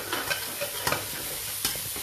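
Phad thai noodles stir-fried in a wok, with brief scraping stirs and sharp clacks over a low continuous sizzle, close and busy for a couple of seconds.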